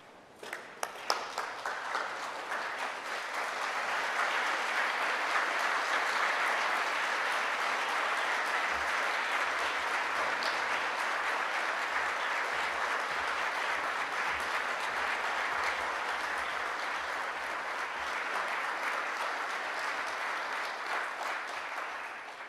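A standing audience at a University of Liverpool graduation ceremony applauds its senior officers, a few scattered claps swelling into long, sustained, dense applause that holds steady before easing slightly near the end.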